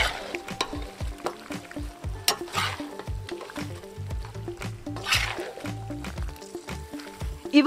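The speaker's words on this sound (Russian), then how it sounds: "Далее добавляем петрушку и укроп в казан. Все хорошо перемешиваем." Parsley and dill are stirred into a filling frying in a kazan, a close, steady sizzle under repeated scraping and squishing strokes of the spoon.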